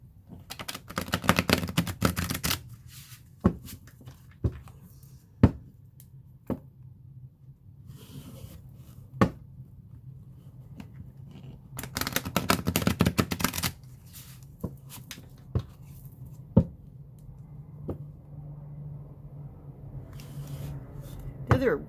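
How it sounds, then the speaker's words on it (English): A stiff tarot deck is shuffled by hand in close, crisp bursts of riffling and card slaps, with quieter single taps between the longer shuffles. "this deck is really hard to shuffle"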